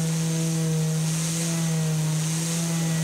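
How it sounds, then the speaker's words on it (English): A dual action sander fitted with 40 grit paper grinds down fiberglass overhangs on a Nidacore and fiberglass foredeck part, making a steady, loud, continuous motor whine with a gritty abrasive hiss and no pauses or talk. "how quickly the 40 grit and the dual action sander takes down these overhangs"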